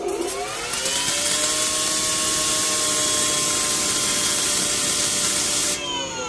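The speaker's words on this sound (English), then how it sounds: "Look at the spray stream." A steady, loud mechanical whine and hissing spray from an EGO 56V cordless pressure washer with a 0-degree nozzle on its low setting run continuously, holding an even pitch before cutting off near the end.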